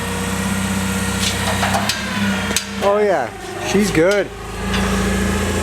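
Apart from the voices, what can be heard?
forklift engine lifting a semi exhaust stack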